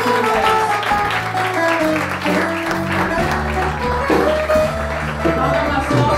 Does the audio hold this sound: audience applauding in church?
yes